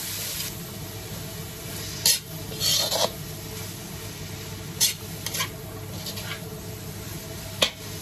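Cabbage and mixed vegetables sautéing in a pan for miki guisado noodles, a steady soft sizzle with a few sharp scraping stirs of a spatula scattered through, close and without talk.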